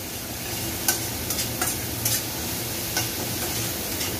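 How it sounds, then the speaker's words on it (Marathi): Garlic and ginger paste sautéing over a high flame for veg fried rice, a steady close sizzle with a few light spoon scrapes against the pan. "लसूण आणि आल्याची पेस्ट परतून घ्यायची आहे अशा प्रकारे"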